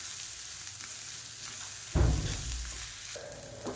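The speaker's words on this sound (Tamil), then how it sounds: "இதையும் சேர்த்து லேசாக பரட்டி விட்டுருவோம்" Grated coconut stirred into onions frying in a pan for a potato onion kurma, with a continuous sizzle and a louder burst of stirring and scraping midway, close by and no one speaking.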